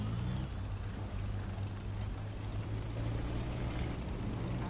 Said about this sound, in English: I hear jet noises.